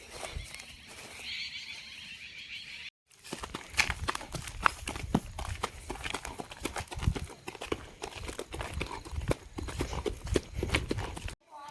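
A Marwari mare's hooves clip-clop at a steady walking pace on hard ground, close by, with some rustling and a brief quiet gap at the start.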